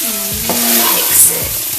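Biscuit gravy cooking in a pan for country-style biscuits and gravy, a close bubbling simmer with soft scraping and clinks of a utensil against the pan, no voices.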